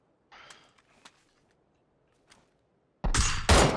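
Gunfire in the battle royale game PUBG: faint clicks and rattles first, then two loud, close, harsh shots in quick succession near the end.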